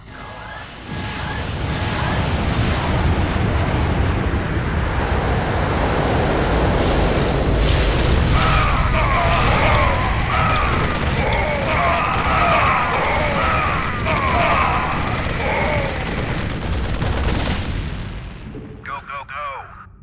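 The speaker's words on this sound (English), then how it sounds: "This special ability allows the Ghost to summon squads of infantry anywhere he wishes." Terran Ghost drop pods land in StarCraft II: a long, loud barrage of heavy thuds and crashing impacts with clanking mechanical noise and chirping tones, building and then fading out near the end.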